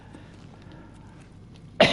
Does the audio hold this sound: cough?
yes